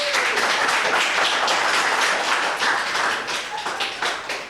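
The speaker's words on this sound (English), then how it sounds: "So give her a big clap" An audience applauds the newly endorsed candidate Jen Sackley for the seat of Leichhardt, a dense, steady wash of many hands clapping close and loud for several seconds before thinning slightly at the end.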